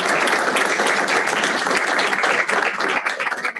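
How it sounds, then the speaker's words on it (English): Loud, close applause from a small group at a team meeting, dense clapping that holds steady before thinning out toward the end. "Let's give him a round of applause."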